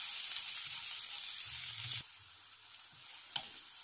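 Onions soften over a low flame for bread chaat, frying with a steady bright hiss that drops in level partway through, with a couple of light knocks near the end.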